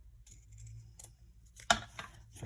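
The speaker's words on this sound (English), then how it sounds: "then I'll cut my edges now" Scissors trimming the edges of a paper craft, a few soft close snips with one sharper cut near the end, alone in a quiet room.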